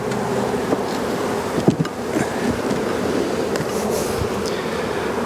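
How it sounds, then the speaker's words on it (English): Honey bees swarm and hum inside a large hive box on a bee farm, a dense, steady buzzing drone close at hand that fills the whole stretch with no one speaking. "that's a pretty big box of bees"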